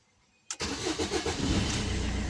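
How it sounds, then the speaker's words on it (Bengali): A car engine is started with the key: after a quiet moment a sharp crank catches and settles into a steady, fairly loud idle that continues to the end. "গাড়ি ইঞ্জিন স্টার্ট করে দিয়েছি"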